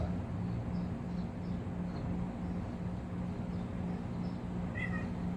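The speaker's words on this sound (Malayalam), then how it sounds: "ആ ഇവിടെ പൂച്ചണ്ട് മിയാവ് കണ്ടു" A cat meows once, briefly, near the end, over a steady low background drone.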